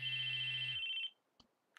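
An electronic phone ringtone from the Chaos;Head Noah visual novel, set in a classroom, holds a loud steady tone for about a second before cutting off, followed by a couple of faint clicks.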